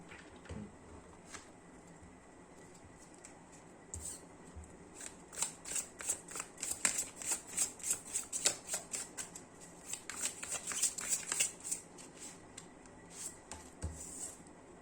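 Tarot cards being shuffled, drawn and laid out for a card reading, a quiet start then flurries of rapid riffling and flicking card sounds, close and crisp, no talking.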